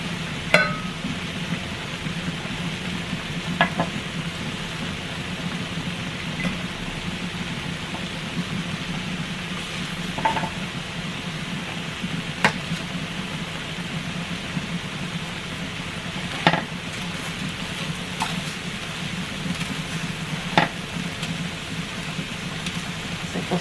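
Garlic cloves roast alongside chiles in a dry pan with a soft, steady crackling hiss broken by occasional sharp pops and faint ticks.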